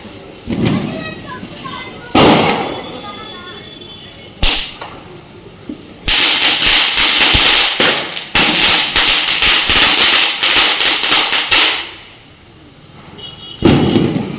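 Loud cracking bursts of leftover Diwali firecrackers go off in long crackling strings, with children's voices and shouts around them outdoors.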